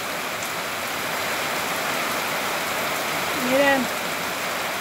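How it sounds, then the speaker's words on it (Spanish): Steady hiss of rain falling on a ranch, even and continuous throughout, with a brief spoken word near the end. "tienes ganas de escuchar los truenos, los rayos, ver cómo llueve aquí"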